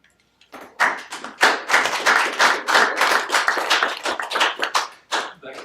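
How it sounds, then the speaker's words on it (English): A small audience at a school district board of education and business meeting claps in a burst of dense, uneven applause lasting several seconds, with no speech over it. "That clap was for you, Jeff and Jordan as well."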